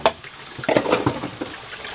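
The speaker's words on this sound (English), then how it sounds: "And now you have to rinse with a little bit of warm water." Warm tap water runs and splashes while something is rinsed in a sink after washing with homemade borax dish soap, close by, with a few louder gushes and sloshes over a steady flow.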